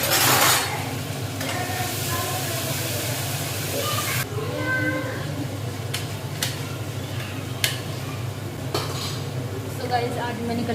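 Tomato sabzi with green chillies fries and sizzles in a pan, a steady hiss with a loud burst at the start, stirring scrapes and occasional clinks of a utensil against the pan throughout.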